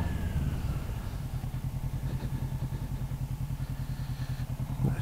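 A motorcycle engine runs with a fast, rhythmic low throb, fairly quiet and steady rather than sharply revving, with no talk over it.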